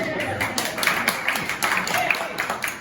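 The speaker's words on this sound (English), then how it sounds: "third installment, yeah, that deserves applause" An audience at Cannons & Cocktails III applauds, a soft steady patter of many hands mixed with murmuring voices.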